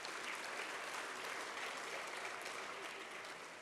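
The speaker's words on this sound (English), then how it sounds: "you should all give yourselves a round of applause for being here tonight" Steady applause from a large audience at the Pittsburgh Technology Council awards evening, continuous clapping filling the room for nearly four seconds at an even, full level.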